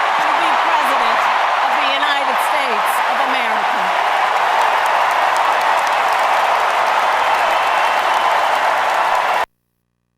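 Dense, steady cheering and applause from a large convention crowd after a presidential nomination acceptance. A voice rises above the noise early on before the roar carries on evenly, then cuts off abruptly.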